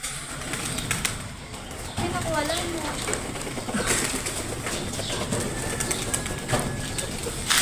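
Pigeons settling into a new 5x5x4 loft, with low coos and scattered bird calls close by over a steady noisy background, a brief flutter of wings and someone talking underneath.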